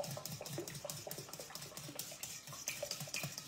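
A whisk or spoon stirring fromage blanc beaten with five eggs in a bowl, making quick, rhythmic soft scraping and clinking strokes, moderately quiet and steady with no talking.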